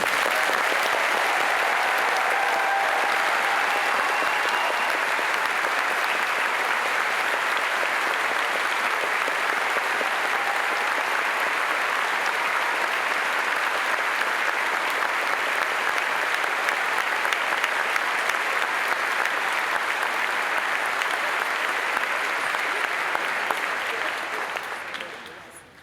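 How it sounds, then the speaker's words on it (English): Sustained applause from a seated audience honouring graduates at a University of Edinburgh graduation ceremony, steady and full for about twenty-five seconds before tapering off at the end. "join with me in applauding once again this wonderful collection of graduates"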